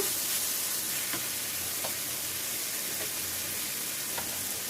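Tomato and spices sizzle steadily in a hot pan while making palak paneer gravy, a close, continuous hiss with faint occasional ticks of stirring, and no voices.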